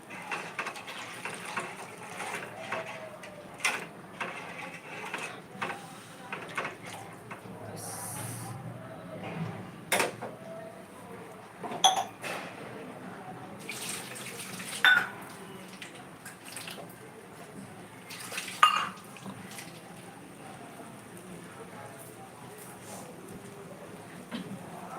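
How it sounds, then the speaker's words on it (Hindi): Water poured into a cooking pot in a home kitchen, soft splashing and trickling punctuated by occasional sharper clinks and splashes, fairly quiet and close. "तो मैं अपने हिसाब से पानी डालूंगी"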